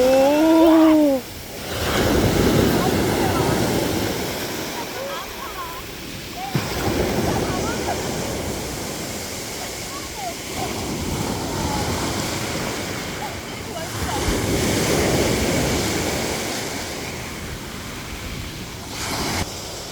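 Ocean waves roll in at a beach in South Korea, several swells building and breaking in a broad roar with wind buffeting the microphone, and voices briefly heard at the start.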